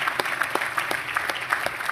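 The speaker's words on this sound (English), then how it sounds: "Big round of applause," Audience clapping at an award presentation on stage at the AUSA Innovators Corner, a brief burst of steady, fairly close applause from a modest crowd.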